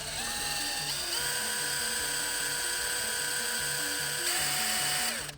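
Power drill with wire chucked in it, twisting the strands counterclockwise during work on a RANS S-21 aircraft header tank: a steady high motor whine running for about five seconds, spinning up at the start and winding down at the end, alone.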